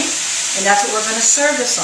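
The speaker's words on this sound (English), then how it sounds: "You can hear it sizzling in the background." Sausage sizzling in a pan, a bright, steady crackling hiss that carries beneath someone talking close by.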